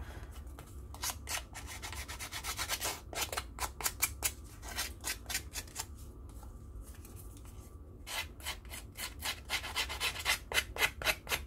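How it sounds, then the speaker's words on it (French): Edges of a paper card are distressed and roughed up with a tool, giving repeated dry scraping and rasping strokes in quick bursts with brief pauses, close and fairly quiet over a faint room hum. "Donc là, j'abîme les bords comme pour l'album photo"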